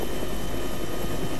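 Bell 412 medium utility helicopter in the ArmA 3 flight sim, a steady close rotor and turbine roar holding at one level for the whole short stretch, with no voices.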